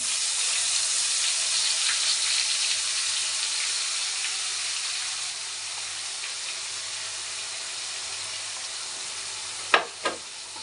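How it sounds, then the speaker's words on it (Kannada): Onions fry in oil for a fish curry, a steady close sizzle that softens midway, followed by two sharp clinks of a utensil near the end. "ಇದಕ್ಕೆ ಈಗ ಈರುಳ್ಳಿ ಹಾಕ್ತಾ ಇದ್ದೀನಿ"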